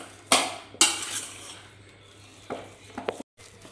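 Finely chopped green chillies, ginger, coriander leaves and carrot for a potato cutlet get mixed in a bowl, with two sharp clinks of spoon on dish, then quieter scraping and a few small taps, close and alone.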